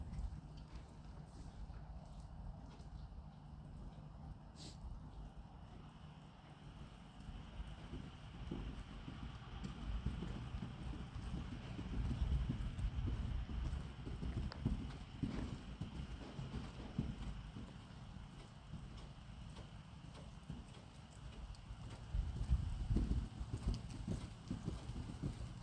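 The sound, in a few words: horse hooves while cantering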